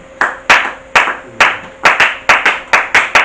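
Hands clap in a church service to acclaim Jesus. About eleven sharp, close claps come in a steady, slightly quickening rhythm with no voices.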